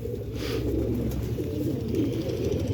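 Pigeons coo on a rooftop loft, soft repeated low cooing that is steady and close, with no talk.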